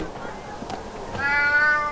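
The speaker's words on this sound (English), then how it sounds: "Oh, look at the kitty cat!" A scrawny cat in the video game Alice: Madness Returns gives a single clear, rising meow near the end, after a moment of quiet game ambience.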